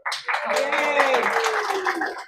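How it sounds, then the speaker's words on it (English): Scattered clapping from a small audience, brief and fairly close, with a voice speaking loudly over the claps. "Give her a round of applause real quick."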